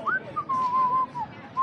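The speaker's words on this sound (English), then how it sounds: "Look around and whistle like," A person whistles a short, casual tune nearby, a clear wavering tone in several connected phrases with brief pauses between them, heard alone.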